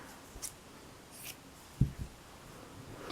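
A fabric strip is trimmed while sewing a quilted watermelon potholder, heard as two quick, quiet snips close together against a soft room hush.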